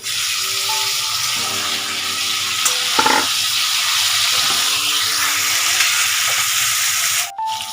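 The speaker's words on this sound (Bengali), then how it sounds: "এবার আমি সবজিটা ছেড়ে দিচ্ছি" Vegetables for shukto, including bitter gourd, drumstick and green banana, hit hot oil seasoned with mustard seeds, dried chilli and asafoetida, giving a steady close sizzle and crackle with a brief clatter near the end.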